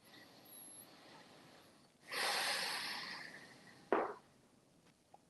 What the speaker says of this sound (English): One or two more breaths.